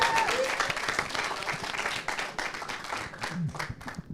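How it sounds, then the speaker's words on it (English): Applause from the audience at a cooking competition for a national dish, a steady crowd clapping that fills the room, with faint background voices. "And that deserves a round of applause"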